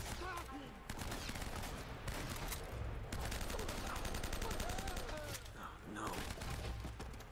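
Rapid gunfire crackles in the video game Uncharted: Drake's Fortune, with dense bursts and volleys of shots that continue almost without pause while voices speak over the action.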